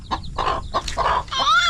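A hen clucks close by in short repeated bursts, with higher chick peeps rising near the end.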